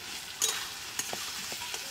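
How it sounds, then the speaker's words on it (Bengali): Ginger, garlic and onion fry in a pan at home for chicken kosha, giving a soft, steady sizzle with a few sharp scrapes of stirring, fairly quiet and with no voices. "তো আদা রসুন পেঁয়াজের সঙ্গে ভালো করে ভেজে নিয়েছি।"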